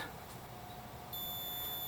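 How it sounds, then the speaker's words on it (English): A faint electronic beep from a security system touchpad rings out partway through, a thin high tone sustained briefly over quiet background hum. "When the high-tech touchpad is satisfied, it beeps, as you heard"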